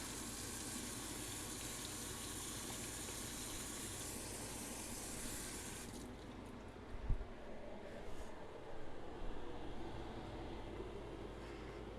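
Kitchen tap water runs steadily while a utensil is washed after handling raw chicken, a constant rushing stream that cuts back partway through to a quieter flow with faint handling bumps.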